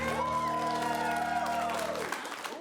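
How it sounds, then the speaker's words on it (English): Clapping and cheering with whoops and shouts from an improv comedy audience voting for a murder scene, a loud crowd burst that holds for two seconds and then drops away quickly. "Only clap for the one you want to see go on."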